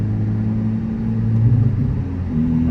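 A 2024 Honda Civic Type R FL5 with a manual gearbox pulls away in second gear, its engine a steady, close low drone and rumble that swells slightly as the revs build, with no talking.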